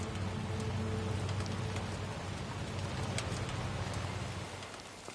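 Steady rain pours down in the video game Death Stranding 2, a constant hiss and patter with a low rumble underneath, easing slightly near the end.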